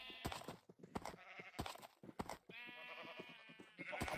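Minecraft sheep bleating several times in a row, clear wavering cries alternating with short clicky taps, fairly close but quiet overall, with no talk.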